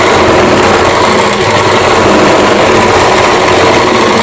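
A sewing machine stitches fabric with a continuous loud, fast whirring buzz, close and steady, with no pauses, and no voices are heard.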